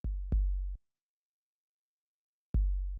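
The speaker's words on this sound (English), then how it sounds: "This is it without the processing." Unprocessed 808 kick layered with a second kick, two booming low hits in quick succession, then silence before a third identical deep hit, each sustaining briefly and cutting off clean.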